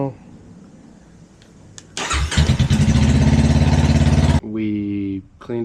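A Honda Rebel 500 motorcycle engine cranks and catches, roaring loud and steady for a couple of seconds before cutting off, with a brief revving burst after it and faint background sounds beforehand.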